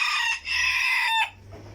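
A rooster crows loud and close at a bird seller's shop in Settat, in a short two-part call with no other sound around it.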